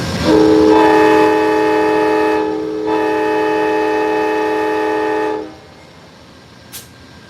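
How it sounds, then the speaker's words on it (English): A loud, sustained Amtrak California Zephyr horn blares a warning for several seconds at the Ottumwa, Iowa station with a brief dip midway, then cuts off, leaving quiet background and a faint click. "we've got our warning whistle to let everybody that got off on the platform"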